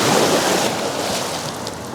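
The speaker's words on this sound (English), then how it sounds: "these waves are kind of pounding" Waves pound the shore below a dam during overnight sturgeon fishing, heard as a loud, continuous washing roar close by, with no voices over it.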